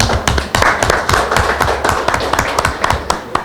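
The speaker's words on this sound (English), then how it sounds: "can we just do a round of applause for those guys?" An audience at a Furaha City concert in Kenya claps for the supporters, a steady stream of sharp, close hand claps and taps throughout, fairly loud and unbroken.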